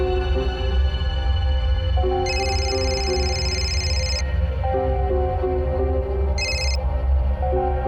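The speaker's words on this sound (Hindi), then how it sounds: "मैं अभी मल्हार को फोन करती हूँ और सब सच सच बताऊंगी, वही तुम्हें ठीक करेंगे।" A telephone rings during a phone call in a Hindi crime drama: a long electronic ringing tone, then a shorter burst, over loud, steady dramatic background music.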